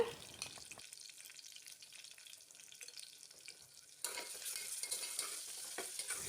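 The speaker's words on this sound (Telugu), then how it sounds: "అల్లం వెల్లుల్లి పేస్ట్ వేసుకొని బాగా కలుపుకోవాలండి." Ginger garlic paste stirred into a broad bean and tomato curry in a pressure cooker, close, soft scraping and wet stirring, quiet at first and then louder and busier with a sizzle for the final seconds.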